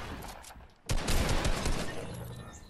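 Rapid bursts of gunfire from the Fortnite video game fill the clip after a brief quieter lead-in, loud and close, with overlapping shots clustering in dense volleys.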